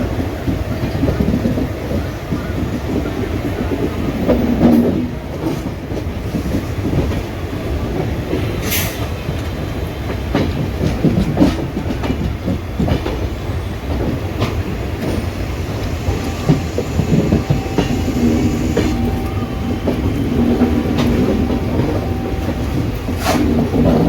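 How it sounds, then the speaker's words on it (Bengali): An express train curves into Howrah station, its wheels clattering over rail joints with a steady rumble, brief metallic squeals rising at intervals, heard from inside the carriage with no talk. "ট্রেন আমাদের একটু সুন্দর করে কার্ভ নিচ্ছে, হাওড়া স্টেশনে আমরা ঢুকছি এবার।"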